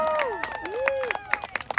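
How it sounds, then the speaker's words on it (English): Hands clap in a quick, uneven rhythm to cheer Gordon on a swing, several close claps over a noisy crowd with tonal voices and babble throughout. "Let's clap our hands for Gordon"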